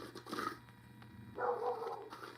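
A dog gives two or three rough, hoarse barks, fairly close, separated by a short pause with faint room noise in between.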